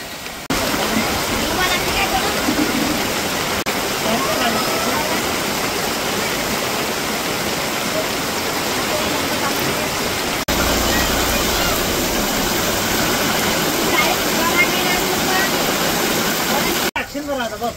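A flooded river rushes in a sudden spate, a loud, continuous roar of churning water filling the entire stretch, steady and close, with speech faintly under the noise.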